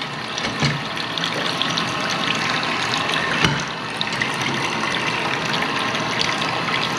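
Hot water running steadily from a tap in a bus conversion unit, with scale in the water, a continuous broadband gush with a few small splashy knocks, no talking.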